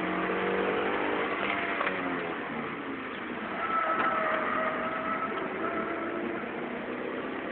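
A Toyota MR-S drives on a race circuit, its engine note steady and moderately loud with rising and shifting tones as it accelerates, set against broad road and wind noise.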